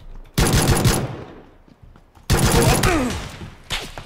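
Two bursts of automatic gunfire in PUBG, loud and close, each crackling for about half a second to a second, with a short rapid burst at the end and a ringing tail between.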